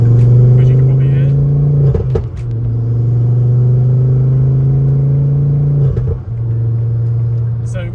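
A modified car exhaust with a de-resonated system idles with a deep, loud rumble, briefly blipping twice as the engine is revved, then settling back to its low drone.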